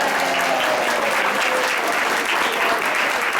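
A theater audience at an improv show claps steadily and loudly, dense broadband applause filling the room without a break for over three seconds, with a voice briefly audible beneath it at the start.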